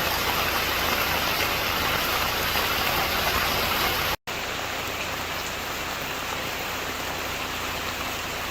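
Heavy rain drums down in Valparai, a loud, dense roar with a faint engine hum beneath; the sound cuts out for an instant midway, then resumes just as strong.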